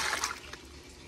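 Water running into a cup in a home kitchen while making spaghetti sauce, a brief, faint splashing and trickling pour with no talking.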